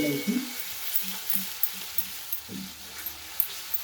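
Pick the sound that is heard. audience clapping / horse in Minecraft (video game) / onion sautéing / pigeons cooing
onion sautéing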